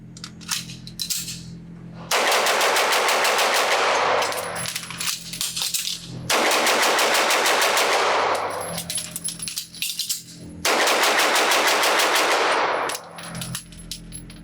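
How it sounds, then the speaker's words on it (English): A Sig Sauer P226 Legion SAO single-action pistol fired rapidly on a range in three long strings of fast, dense shots, loud and close, separated by short quiet gaps. "I'm really excited to see how fast I can shoot it with this awesome trigger."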